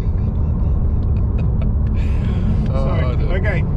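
A Jaguar SVO Project 8 drives along with a steady low engine rumble, loud and close throughout, while people talk over it.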